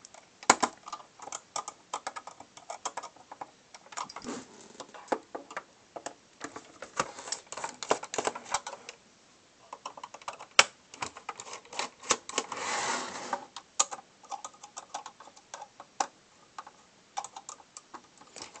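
Screws being backed out of a Nintendo GameCube with a standard Phillips screwdriver, heard as quiet irregular ticking and clicking with small scraping bursts. The sounds come close up and alone, with no talk.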